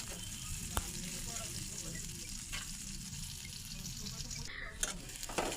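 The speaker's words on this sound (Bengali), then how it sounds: "পেঁয়াজ ভাজিটা বাদামি কালার হয়ে আসছে" Onions frying in a pan until browned while a spiced fish dish is prepared, giving a steady close sizzle with a few brief clicks and stirring scrapes.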